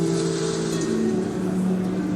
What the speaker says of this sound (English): this is the sound of water